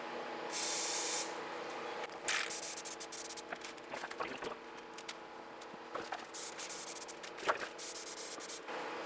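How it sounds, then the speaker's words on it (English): Aerosol can of black Plasti Dip rubber coating sprayed onto foam for a Halo 5 cosplay armor piece, one long loud hiss followed by several shorter bursts with brief pauses, over a faint steady background hum. "because I'm coating it with black plastidip, I can tell when I cover the spackle"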